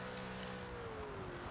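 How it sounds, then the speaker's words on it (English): Saleen S7 race car in the Forza 7 game decelerating under engine braking, a steady loud engine drone whose pitch slides gradually downward over a second and a half, with no talk. "Engine braking this time, much better."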